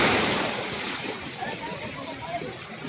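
Big ocean waves surge against a small fishing boat at sea, a steady broadband rush of surf and wind, with voices talking faintly underneath.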